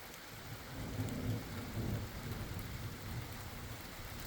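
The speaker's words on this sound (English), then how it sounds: "we finally getting a thunderstorm and a bit of rain" Steady rain pours down with low rumbles of thunder rolling through, swelling slightly in the middle before settling back into a constant downpour.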